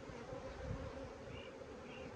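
Honey bees hum faintly but steadily as an opened hive is inspected, a soft continuous buzz with no speech.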